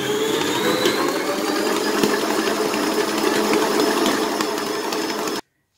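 A stand mixer whirs steadily at high speed while bread dough for a star-shaped loaf is mixed, a loud continuous motor drone with slight rattling that cuts off abruptly.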